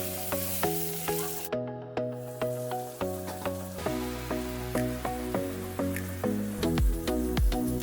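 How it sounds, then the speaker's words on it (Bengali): Long beans stir-frying with samosa filling in a pan, a steady sizzle broken by repeated rhythmic scrapes and stirring knocks of a spatula, close and moderately quiet with no talking. "এরপর অ্যাড করলাম বরবটি। সবকিছু ভালোভাবে মিশিয়ে 2-3 মিনিট রান্না করলাম।"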